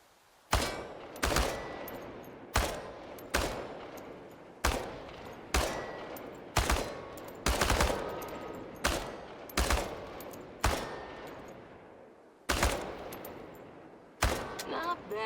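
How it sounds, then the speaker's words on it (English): Bursts of automatic gunfire in the video game Chernobylite, aimed at cans on a shooting range: about a dozen sharp, loud bursts in an irregular rhythm, each ending in a short decaying tail, with brief pauses between them. "The biggest challenge is compensating for recoil in automatic firing mode."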